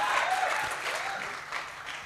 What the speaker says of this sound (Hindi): एक बार जोरदार ताली बता के मुझे बता दीजिए।